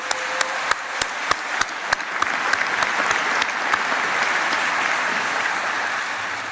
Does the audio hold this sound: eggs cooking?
no